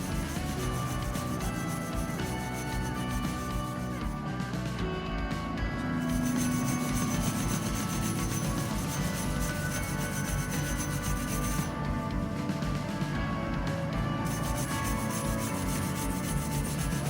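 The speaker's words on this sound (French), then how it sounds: "nettoyez le moyeu de roue à l'aide d'une brosse métallique" A wire brush scrubs the front wheel hub of a Renault Twingo 1 after the brake disc is removed, giving a steady, close scraping rasp that runs continuously with no talk over it.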